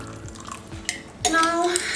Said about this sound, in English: So another set of water. I have used 2 glasses just to be cautious, because the water doesn't spill. Fill it with.